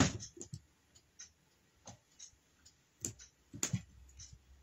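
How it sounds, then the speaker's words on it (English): Wire cutters snipping excess craft wire off a beaded whisk dragonfly, a few faint, sharp clicks and snaps spread irregularly through a quiet stretch with no talking. "And I'm going to snip off this excess wire."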